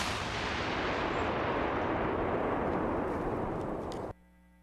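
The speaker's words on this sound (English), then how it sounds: "a building being blasted." A building blasted apart in a recorded explosion, one sustained heavy roaring rumble that fills the whole sound and then cuts off abruptly, leaving near silence.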